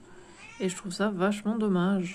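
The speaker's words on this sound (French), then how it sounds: "je suis désolée pour le chat, hein. Elle a très envie de gueuler là." A cat yowls loudly and insistently several times, its drawn-out meows rising over someone speaking French indoors close by.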